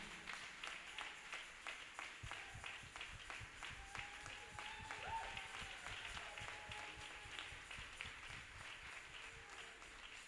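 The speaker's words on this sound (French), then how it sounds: "put your hand together to the Lord" A church congregation at a Sunday service applauds steadily, a faint, continuous patter of many hands clapping in a large room.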